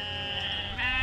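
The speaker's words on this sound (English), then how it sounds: "Crazy sheep." Close, loud sheep bleating during an afternoon of grazing, one sustained bleat that rises at the end.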